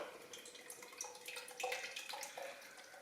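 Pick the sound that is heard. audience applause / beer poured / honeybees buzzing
beer poured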